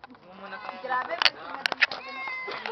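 A cat meows several times in short, strained bursts close by, with a voice speaking around and between the calls.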